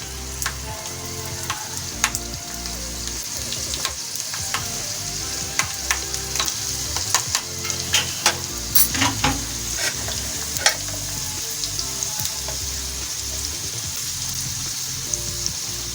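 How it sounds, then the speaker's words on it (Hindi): Sliced onions sizzle and crackle steadily in hot oil, with occasional scraping stirs and sharp pops throughout. "ऑयल हमारा हो चुका है। इसमें डालेंगे प्याज।"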